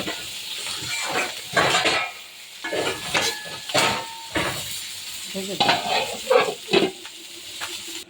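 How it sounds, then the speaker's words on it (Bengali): Pabda fish frying in a pan, a close, crackling sizzle with bursts of spattering oil and occasional scraping stirs, rising and falling in uneven waves. "আমার মাছ ভাজা হয়ে গেছে"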